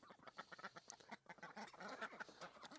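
Cherry Valley ducks quack in a busy, overlapping chorus, many birds calling rapidly at once, faint and somewhat distant with no talking over them.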